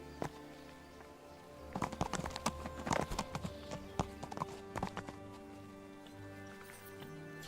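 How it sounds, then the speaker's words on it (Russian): Horse hooves clip-clop in Kingdom Come: Deliverance 2, a cluster of irregular hoofbeats near and moderately loud over a steady low game ambience, with a faint whinny possible. "Это моя лошадь."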